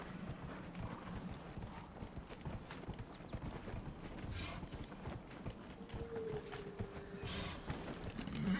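Horse hooves clip-clop in Dragon Age: Inquisition with a steady trotting rhythm throughout, soft and fairly quiet, with no talk over it.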